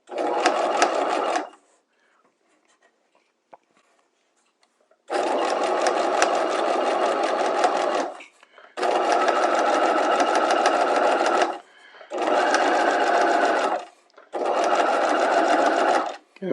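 A sewing machine stitching a rolled baby hem, running in several steady buzzing bursts of a few seconds each, separated by short pauses, close and clear with no talking.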